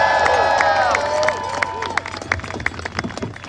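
An outdoor crowd at a Democratic rally outside the U.S. Capitol applauds and cheers for Senator Merkley and Nafisa Fye, sharp scattered claps and whistles over a sustained roar, loud and close.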